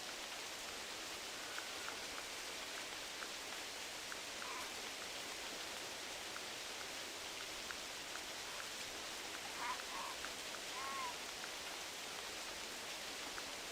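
Steady rain hisses evenly through a hunting game's outdoor wilderness beside a river, a soft continuous wash with no distinct drops standing out and no one speaking.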